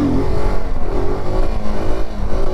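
A motorcycle engine revs loudly and continuously in a stunt lot during a long wheelie, its pitch wavering slightly as the throttle is held, close and with no talking.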